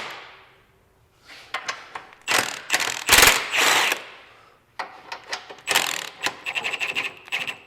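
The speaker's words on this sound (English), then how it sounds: "we'll loosen these bolts and you'll see the subframe lower" Ratcheting clicks and mechanical rattles as a wrench loosens subframe bolts on a 1997-2001 Honda CR-V during a lift kit install, coming in irregular close bursts with a louder clatter midway, no voices.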